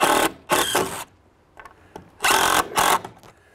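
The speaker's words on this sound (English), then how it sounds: "I'm just going to throw in 1 screw for now" A power drill drives a screw into a cedar post while building a shed, with two loud bursts of whirring separated by a pause.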